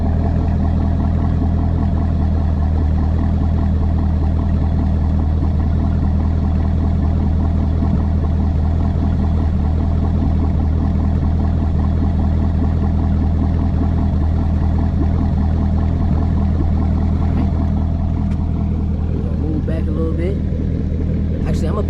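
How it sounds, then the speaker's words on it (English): A C6 Corvette idles with a steady, loud low rumble that stays even throughout, with a brief change near the end. "Actually, y'all can just hear it idling,"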